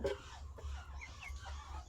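Chickens clucking in short, scattered calls over a steady low rumble, fairly close, with no talking.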